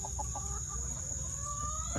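Turkey hens and a rooster clucking together in a backyard chicken flock, a few short, close clucks over a steady hum of background noise.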